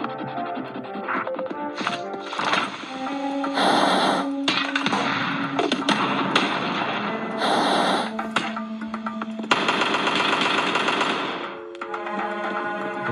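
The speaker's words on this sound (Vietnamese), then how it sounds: "Cái khẩu súng lửa này không ăn thua mấy các bạn." A flamethrower in a mobile video game fires in long roaring, crackling bursts over a busy game soundtrack, loud and steady with brief gaps between blasts.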